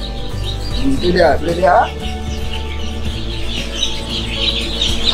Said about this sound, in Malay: Nampak anak ayam ini yang ditetaskan di telur ayam kampung.